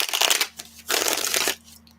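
Two bursts of tarot cards being shuffled close up, a crisp riffling rush, a short pause between them, then quiet.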